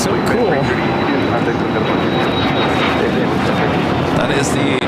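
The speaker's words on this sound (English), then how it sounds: "That is the American Dreamliner coming in from Dallas, Fort Worth, Texas" An American Airlines Boeing Dreamliner arrives at LAX from Dallas Fort Worth, giving a loud, continuous jet rumble with a faint whine on top while people talk over it.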